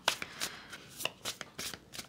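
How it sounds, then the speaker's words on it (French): Tarot cards shuffled by hand in a quiet room, a run of soft riffling flutters and taps coming in quick irregular bursts, close and fairly faint, with no talking. "Je vais rajouter 2 cartes."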